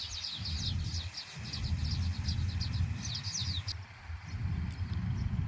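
Sparrows building nests in a tree chirp busily and continuously, their quick high tweets layered over a steady low outdoor rumble.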